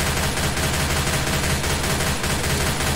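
Dense, continuous gunfire in the video game Left 4 Dead 2 fills the whole stretch, a loud sustained rattle of shots with no pauses.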